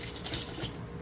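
Pieces of HDPE plastic clatter lightly into a pan for melting, a couple of quick, faint knocks and rattles close by with no talking.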